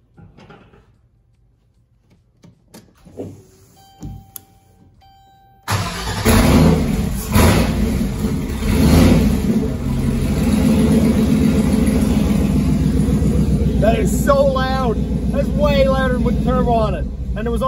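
A turbo LS engine in a Caravan is cranked and fires up loudly through a very short exhaust, idling roughly with rising revs. Quiet clicks and door sounds come first, and a voice talks over the running engine.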